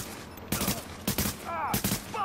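Gunfire in The Division on Xbox One: three separate bursts of shots, each a sharp broadband crack with a short tail, spaced about half a second apart over steady game ambience.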